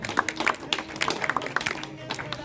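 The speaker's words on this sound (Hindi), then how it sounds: "जोरदार तालियां दिनेश सर के लिए" A crowd of students and teachers claps at a school career day event, a lively burst of many overlapping hand claps with some voices mixed in.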